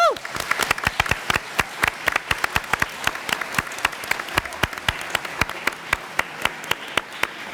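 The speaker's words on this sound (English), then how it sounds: "So give yourselves a round of applause" An audience at a Lawrence, Massachusetts school committee meeting claps loudly and steadily, many sharp distinct claps fading slightly over several seconds.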